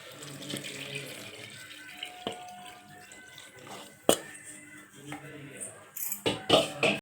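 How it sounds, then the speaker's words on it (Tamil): Stock from boiled mutton is poured into a masala curry in a home kitchen, with quiet intermittent splashes, clinks and pouring sounds scattered over several seconds that grow louder toward the end. "இப்போ இதில் வந்து நான் மட்டன் வேக வச்ச தண்ணி இருக்குது, அந்த தண்ணியை அப்படியே ஆட் பண்ணிக்கிறேன்."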